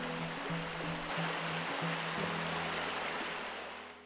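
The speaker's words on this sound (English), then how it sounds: "This is the Forshmaline Creek" Forshmaline Creek runs through Robbers Cave park in southeast Oklahoma, its water flowing in a steady broadband rush that fills the scene without pause and fades slightly at the end, with a low hum underneath.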